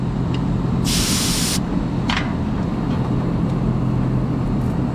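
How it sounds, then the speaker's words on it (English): Gas purges through a Schrader valve on an LG Multi V outdoor unit in a loud, sharp hiss lasting under a second, followed by a brief fainter spurt, over a steady low machinery hum. "I want to do is purge a little bit just to get all that leak check out of there."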